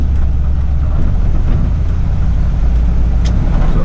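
Steady low rumble of a 1963 Chevrolet C10 shortbed with a 283 V8 and two-speed Powerglide automatic, heard from inside on a test drive; continuous, even engine and road drone with no talking.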